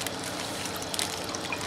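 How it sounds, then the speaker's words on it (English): Rinse water pours and trickles out of a plastic-bag washing machine, a steady, close splashing stream that runs for the whole moment with no talking over it. "And there's the water. Look at that water."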